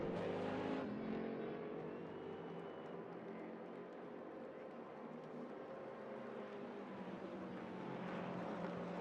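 Race car engines in RaceRoom, with a Volkswagen and an Audi battling: a steady, droning mix of engine tones under rising and falling pitch, continuous throughout with no gaps.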